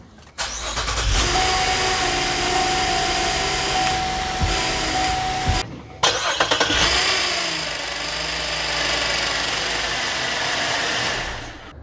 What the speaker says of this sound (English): I'm going to turn the wheel all the way to lock and start the car.